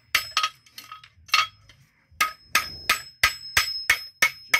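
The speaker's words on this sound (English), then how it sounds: "Just forging the heel in there nicely, making sure that everything's right." A farrier hammers the heel of a ready-made Vulcan horseshoe on an anvil, modifying it for a trailered heel: a run of sharp, ringing metallic strikes, close and loud, in irregular bursts then a steady beat.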